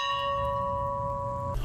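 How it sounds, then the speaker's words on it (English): An old farm bell at the Jimmy Carter farm, part of the Jimmy Carter National Historical Park in Georgia, rings out a single sustained tone that hangs steadily before being cut off near the end. "The old farm bell ringing 39 times to honor his place in history"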